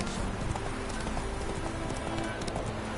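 Roach, the horse in The Witcher 3, galloping: a fast, continuous drum of hooves with a low rumble under a noisy game mix, moderately loud and steady throughout.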